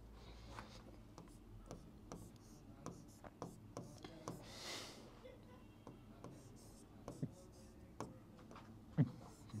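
A pen scratches across paper in short, irregular strokes while handwritten accounting work is done, soft and close, with quiet pauses between bursts of writing.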